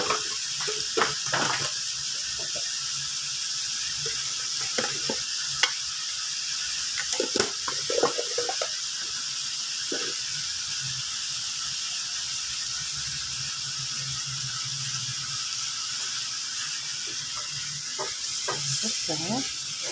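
Pork cubes fry in a pan for pork steak with mushroom gravy, giving a steady, fairly loud hiss with scattered sharp pops and crackles throughout.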